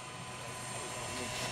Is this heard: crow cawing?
no